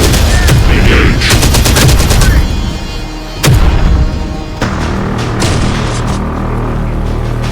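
Loud, dense bursts of gunfire and explosions from the Terminator Dark Fate Defiance strategy game, with rapid automatic rattles and heavy booms through a sustained battle din, and a voice speaking over the fighting.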